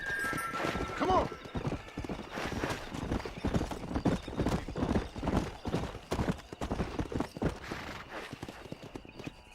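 Horse hooves clip-clop at a gallop in the Western game Red Dead Redemption, a steady driving rhythm close by with a brief neigh near the start and a voice talking over the riding.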